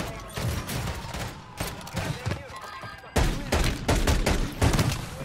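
Video game gunfire in Warzone: repeated rapid bursts of automatic weapon fire in several volleys, loud and punchy, with players talking over the shooting.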